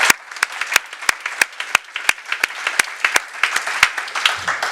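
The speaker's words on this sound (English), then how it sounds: "Can we give them a round of applause, please?" A conference audience in London claps for a panel with sharp, distinct hand claps standing out close by, a warm round of applause lasting several seconds.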